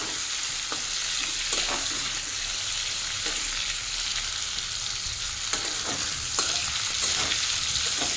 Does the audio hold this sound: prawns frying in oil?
yes